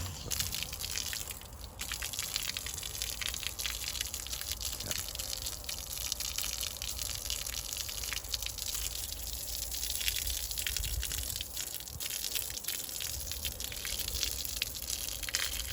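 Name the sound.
water pouring out of a watering can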